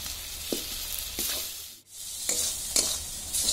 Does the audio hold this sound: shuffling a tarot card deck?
no